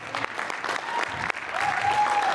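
An audience at a PICA Diwali 2019 event claps steadily for a couple of seconds in a dense, even wash, and a thin high tone comes in near the end.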